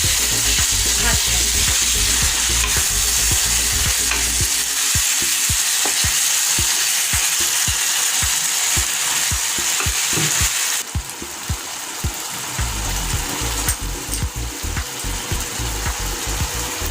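Prawns frying in tomato and chili sauce in a pan, with a steady loud sizzle and repeated scraping stirs of a spatula, close and alone without talk.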